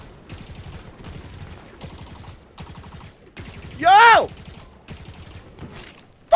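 Beam rifle gunfire in Halo 5, a run of loud, regular sharp shots in quick bursts, broken by a brief shouted voice midway.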